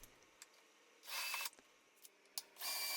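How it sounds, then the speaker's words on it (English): A drill bores straight holes through a guide block into the base of a walnut hutch, heard as two short, whirring bursts separated by quiet workshop pauses. "here I'm just using a block to drill straight holes"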